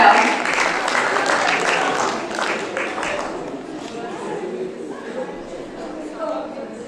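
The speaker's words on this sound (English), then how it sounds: "Ladies and gentlemen, a big round of applause." Audience applause at a business conclave in a Srinagar hotel conference hall, a steady patter of clapping that fades gradually over several seconds, with some chatter underneath.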